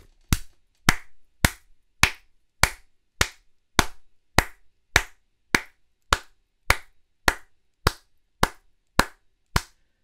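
Single pair of hands clapping slowly and steadily, about sixteen sharp, close claps spaced evenly at roughly one per second in an otherwise quiet room, with no talk.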